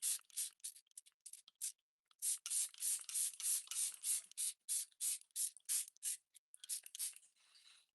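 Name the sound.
setting spray being sprayed onto skin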